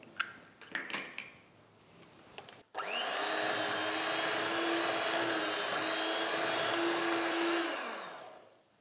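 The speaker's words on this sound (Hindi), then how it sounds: "और अब इसमें हम एक एक करके अंडा डालेंगे और इसे बीट करते जाएंगे" Electric hand mixer beating eggs into cake batter, a few clicks and knocks before the motor starts, then a steady loud whir that holds for several seconds before it winds down.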